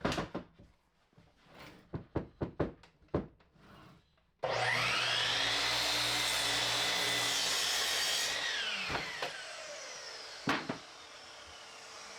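A power saw trims a 2x4 wood bench top down to 40 inches: one loud, sustained cut runs for several seconds and then winds down, after a run of sharp knocks and taps as the board is set up.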